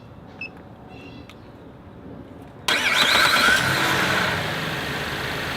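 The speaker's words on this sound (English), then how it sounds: "Now we'll test the starter." After a quiet stretch with faint clicks, a car engine cranks briefly during a starter test and fires up, settling into a steady, fairly loud idle.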